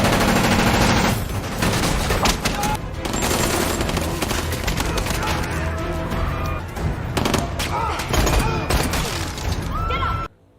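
Rapid gunfire crackles through a loud, dense action-film shootout, bursts of shots layered over booming impacts and a constant score, with no pauses until an abrupt cutoff near the end.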